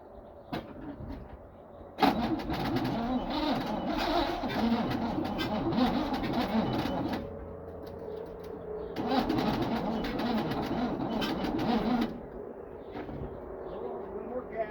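A 1972 Chevrolet C10 4x4 pickup engine, revived after decades sitting, cranks and catches in two loud bursts, rough and uneven, with quieter idling or cranking between and brief talk nearby.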